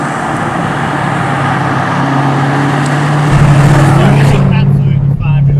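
A Jaguar F-Type with the Predator 670bhp tuning package and quad exhaust tips, valves on the loud setting, rumbles with a deep steady drone that rises in level partway through.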